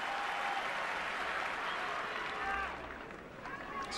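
A crowd at a Nadal–Federer clay-court tennis match at the French Open applauds and cheers in a steady, dense wash of clapping that eases slightly toward the end.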